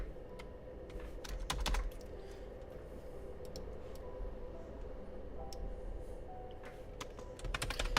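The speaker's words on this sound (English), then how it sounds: "Right now I'm typing with one hand." Someone types one-handed on a computer keyboard, a loose, uneven stream of soft clicks with occasional quick bursts over a steady low room hum.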